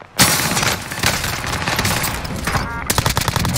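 Loud, dense automatic gunfire rattles almost without a break in a multiplayer shooter video game, sustained bursts close up with staccato shots toward the end.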